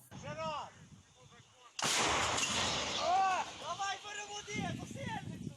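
A loud artillery gun blast bursts in after quiet talk, followed by a sustained rumble, with voices continuing over and after it, at a frontline position near Soledar and Bakhmut.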